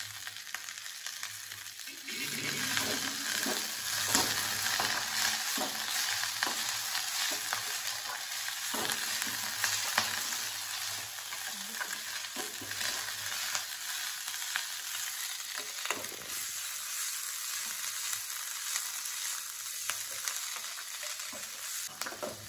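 Drumstick leaves sautéing in a hot pan while making crispy adai dosa batter, a steady close sizzle and fry hiss with occasional stirring scrapes, continuous and fairly loud throughout.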